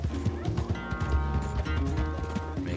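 Hooves clip-clop in a fast gallop with a whinnying horse in Red Dead Redemption, a steady rhythmic pounding heard close up over tonal game music and low background sounds.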